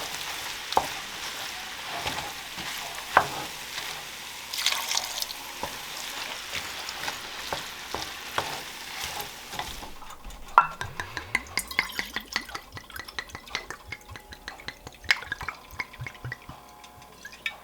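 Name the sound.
beef broth poured slowly into sizzling pan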